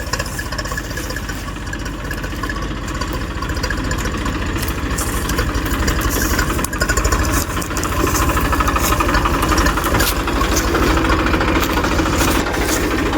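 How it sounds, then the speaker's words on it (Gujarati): A tractor carrying a harvesting attachment runs at a farm for cutting wheat. Its engine throbs loudly and evenly close by for the whole stretch, a rapid chugging drone with no voices over it. "જો આવી ગયું ને આપણું મોડું ટ્રેક્ટરનું."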